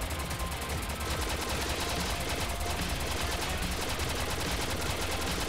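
Rapid continuous spaceship gunfire in the VR shooter Holo Impact Prologue, a dense stream of fast electronic shots, steady and fairly faint, with no talk.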